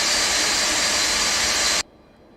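Four jet engines of a Felis 747-200 roar loud and steady in a flight simulator game, a dense broadband rush that cuts off abruptly near the end, leaving faint background hum.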